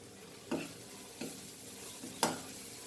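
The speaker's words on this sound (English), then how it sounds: "Now at this stage I will add this pinch of hing" Hot oil in a pan sizzles softly after a pinch of hing goes in for a Goan dry chana masala, with three faint stirring scrapes spaced through the steady frying hiss.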